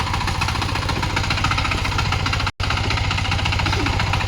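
A tractor engine runs loud and close with a steady rapid chugging throb, broken by one instant dropout midway.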